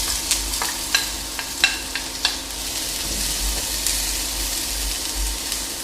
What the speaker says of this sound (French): Je vais ajouter l'oignon émincé.